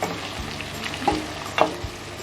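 Onions, peppers and carrots sizzle steadily in a pan for imam bayıldı, with a broad frying hiss and a few soft spatula scrapes and taps.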